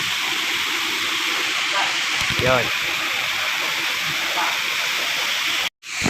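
Water rushes continuously through an underground tunnel in Quezon Province, a close, steady hiss that runs the whole time while a voice speaks briefly over it, ending in a sudden cut near the end.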